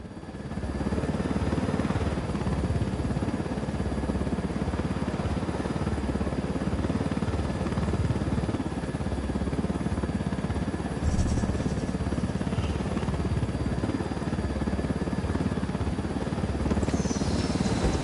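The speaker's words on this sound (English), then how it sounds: "I love when I get to loot a chopper." A steady, loud helicopter engine drones without a break in Ghost Recon Wildlands. The rotor buzz holds constant for about eighteen seconds and no one speaks.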